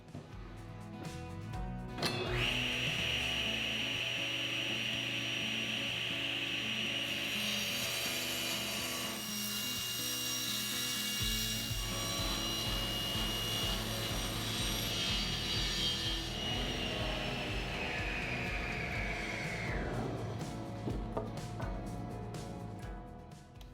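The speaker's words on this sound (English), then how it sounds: "over at the table saw, I'll rip them to width." Table saw ripping 2x4 boards to width for a firewood storage rack, a loud steady whining cut with the blade note shifting as each board feeds through, near and continuous with no voices.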